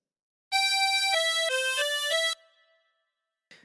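A tremolo harmonica plays the Hey Diddle Diddle phrase as a run of about five sustained, reedy notes stepping between pitches, loud and close, then fading into a soft tail with a brief faint sound near the end.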